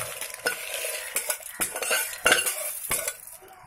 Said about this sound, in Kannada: ಹುಣಸೆ ಹಣ್ಣನ್ನು ಕೂಡ ಸ್ವಲ್ಪ ಫ್ರೈ ಮಾಡ್ತಾ ಇದ್ದೀನಿ.